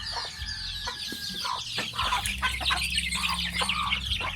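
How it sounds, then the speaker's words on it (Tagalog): Several chickens cluck and squawk in overlapping bursts close by, with a steady low hum running underneath. "Magsimula tayo dito sa magpakain ng mga alaga natin manok."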